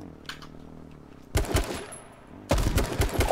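Two loud sharp gunshot bursts from a sniper rifle in H1Z1, each followed by a short ringing tail, with a quieter stretch of game ambience before the first shot.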